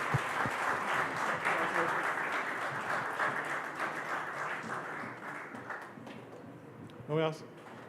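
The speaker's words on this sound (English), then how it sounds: "A huge round of applause for Chef Manu Chandra" An awards-ceremony audience applauds Chef Manu Chandra, Chef of the Year, with sustained, even clapping from a crowd that continues for several seconds before a brief louder burst near the end, with some speech mixed in.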